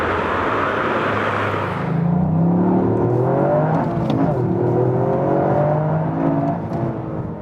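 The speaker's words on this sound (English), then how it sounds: "This was almost 100 kilometers an hour, and we're in this track mode, 50-50 distribution from that all-wheel drive here on the wet track." A 2021 Toyota GR Yaris with a 261 hp all-wheel-drive engine in track mode at speed on a wet track, its loud engine note climbing steadily through the revs in a sustained run with tyre and road roar beneath.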